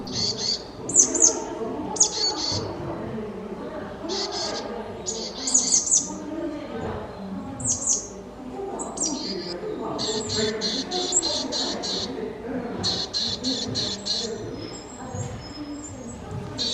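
Bird songs played from an audio bird book in short bursts of high chirps and trills, separated by pauses, over a murmur of background sound.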